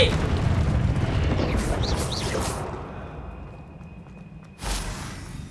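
A Confringo spell blast in the video game Hogwarts Legacy, a loud rumbling burst and roar that slowly fades, followed by a shorter sharp impact near the end.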